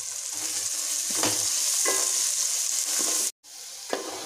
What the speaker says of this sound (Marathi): या ठिकाणी आपण तेल टाकून कांदा शिजवून घेऊया